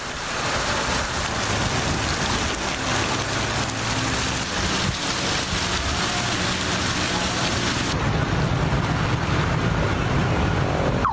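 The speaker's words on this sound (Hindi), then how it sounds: "कराची के मुख्तलिफ इलाकों में सारा दिन कहीं हल्की और कहीं तेज़ बारिश" Steady rain falls across Karachi, a dense, even hiss of downpour that stays loud and unbroken throughout, with no voices heard.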